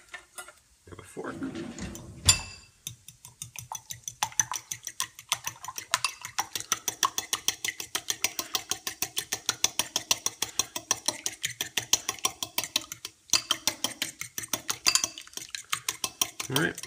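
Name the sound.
whisking eggs with a fork for omelet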